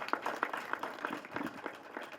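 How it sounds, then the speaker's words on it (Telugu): An audience at a movie pre-release event breaks into applause, a dense patter of many hands clapping steadily from start to finish without any voices over it. "వాళ్ళ కోసం గట్టిగా చప్పట్లు ఒకసారి."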